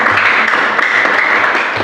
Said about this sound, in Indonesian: Tepuk tangan untuk Nom Leni yang mendekati.